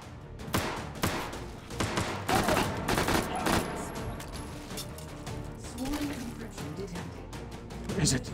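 Rapid bursts of armor piercing incendiary gunfire crack repeatedly in the Hot Dogs, Horseshoes & Hand Grenades VR game against armored Sosigs on a 2Fort custom map, loud and close with irregular clusters of shots and impacts.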